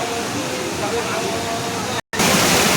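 Panchalingeswar waterfall recorded from very close, a loud dense roar of falling water filling the whole clip, broken only by a momentary cut.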